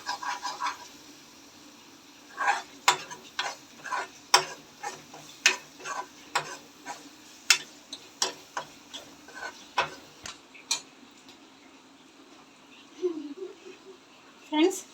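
Spices and masala for a prawn curry frying in a pan, heard as a faint sizzle under a series of sharp, regular clicks and taps of a spoon stirring against the pan. A voice speaks briefly at the start.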